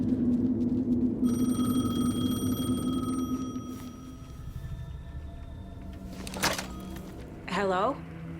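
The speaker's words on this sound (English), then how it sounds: "The payphone was ringing." A payphone rings in the video game Alan Wake 2, its repeated electronic bell tones sounding fairly close over low ambient game noise and a voice, followed later by brief chirping effects.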